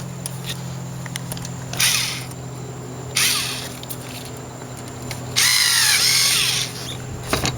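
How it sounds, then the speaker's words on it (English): A powered screwdriver tightens a hose clamp on a short ram air intake being fitted to a Monte Carlo SS 3.8 V6, giving three short, close whirring bursts over a steady background hum. "Take your screwdriver and secure it down."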